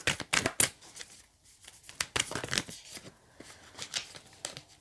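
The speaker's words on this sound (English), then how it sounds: "Let's try it off screen because it's getting a bit difficult to shuffle." Tarot cards being shuffled by hand, a series of quick riffling bursts and soft papery slaps with short pauses between, close and fairly loud with no talking.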